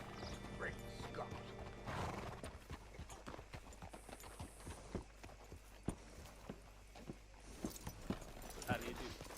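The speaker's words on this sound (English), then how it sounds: "Hitch your horse up here." Horse in Red Dead Redemption 2 clip-clopping with uneven hoof thuds and snorts, a brief whinny near the start, with game characters talking over it.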